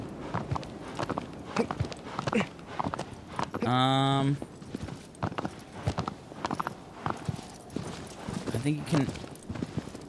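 Horse hooves clip-clop in the Shadow of the Colossus video game, a steady walking rhythm of soft hoof falls carrying on under continuous talk, with a brief whinny-like burst partway through.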